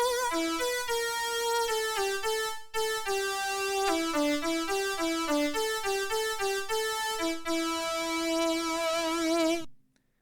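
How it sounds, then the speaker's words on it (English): A Mark 80 synthesizer plays a lead solo with portamento, bright sustained tones gliding smoothly between pitches in a flowing melodic line with two short breaks, close and steady until it cuts off. "the solo sound actually switches onto the Mark 80"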